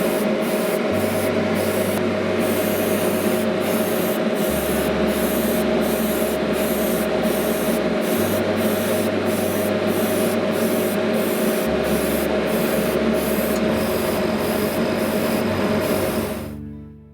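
Airbrush spraying Mr. Colour semi-gloss varnish over a 1/48 Hasegawa Junkers Ju-87 Stuka model aircraft: a steady, close hiss running the whole length with short pulsing bursts of air, then cutting off abruptly at the end.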